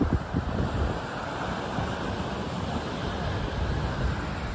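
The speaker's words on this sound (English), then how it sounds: "I'm in a tight little beach spot." Waves break on a small, busy beach, a steady, fairly close wash of surf blended with gusty wind buffeting the microphone, continuous throughout without any talking.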